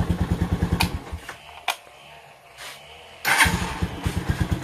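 Motorcycle engine turning over and running at idle, a close, steady low putter with rapid pulsing beats, interrupted by a few sharp clicks and a quieter stretch before the idle picks back up.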